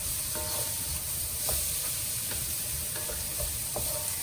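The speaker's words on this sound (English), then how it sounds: "I'm just gonna fry it up until it's fragrant and a little bit soft." Chopped onion fries in a pan for char siu fried rice, sending out a steady, even sizzle with occasional light stirring taps.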